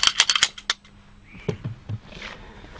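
Pistol shots at an indoor shooting range, a quick volley of sharp, loud cracks at the start, then one more crack, followed by faint clatter and low voices nearby.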